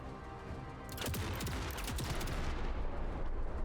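Burst of gunfire in the MENACE tactical video game starting about a second in, dense overlapping shots and booms continuing loudly to the end over a steady background hum.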